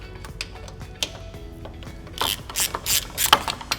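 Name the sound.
ratchet removing T45 bolts from oil pan guard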